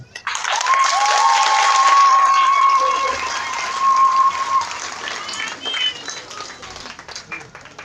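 Twins in an audience in Côte d'Ivoire applaud themselves at an evening gathering, a loud burst of crowd clapping that swells, then tapers into scattered claps.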